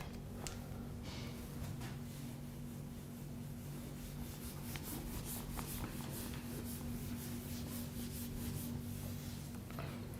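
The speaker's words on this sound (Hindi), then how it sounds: "मैं रब कर दे रहा हूं ये पार्ट।" A board is rubbed clean of writing in a physics classroom, a continuous close scratchy rubbing with a constant low hum beneath and no talking.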